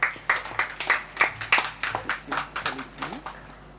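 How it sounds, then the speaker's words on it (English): An audience at an Anti-Corruption Day rally claps in a steady, rhythmic beat of sharp, evenly spaced claps as a student comes forward. "Let us please applaud Shania as she comes forward."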